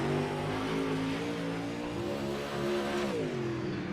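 A UMP race car's engine on Kokomo Speedway during a winter event, a loud sustained mid-pitched drone that holds steady then shifts pitch as the car works around the track, alone without talk.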